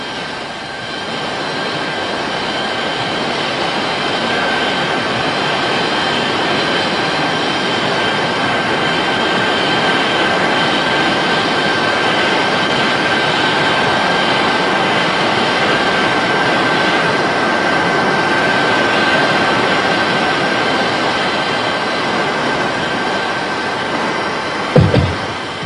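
RAF Nimrod jet aircraft with its jet engines running during a brake check, a loud steady roar with a high whine sustained throughout, ending in a brief sharp knock.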